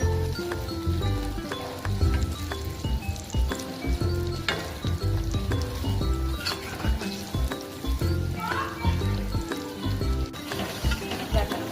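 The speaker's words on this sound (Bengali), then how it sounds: "একটা করে বড়া ভেজে নিলাম।" Green banana kofta fritters fry in hot oil in a wok, giving a steady crackling sizzle that runs the whole time beneath tonal background music.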